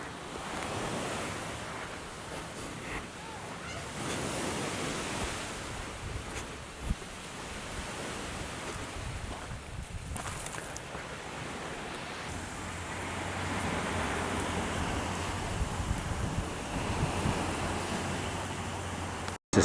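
Surf rolls steadily onto Hat Lamai beach on Koh Samui, Thailand, a continuous wash of breaking waves with wind buffeting the microphone, moderately close and alone.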